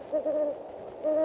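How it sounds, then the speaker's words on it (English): An owl hoots at night in the wild, two clear, close, steady hoots separated by a short pause. "Perhaps you'll hear an owl busy patrolling the nighttime wildlife airways"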